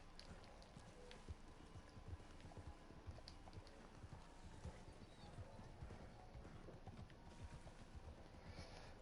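Horse hooves clip-clopping at a steady gait in the Red Dead video game, a continuous rhythmic patter under a busy background of game sound, fairly faint overall.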